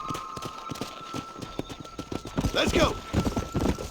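Horse hooves clip-clop steadily in Red Dead Redemption, several horses trotting together under snorts and a man's spoken lines.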